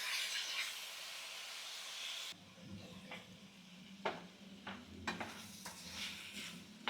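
Tomatoes seasoned with salt and turmeric are stirred in a pot for a village-style tomato green chili chutney, with a soft hiss first and then scattered spoon scrapes and clinks against the metal.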